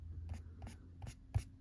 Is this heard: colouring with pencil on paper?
yes